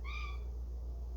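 A cat gives one brief, faint meow at the start, followed by quiet indoor room noise.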